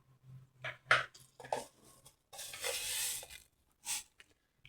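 Curry leaves, dried red chilies and raw chana dal dropped into hot oil, giving a few sharp spatters and scrapes followed by a short burst of sizzling, fairly quiet and close.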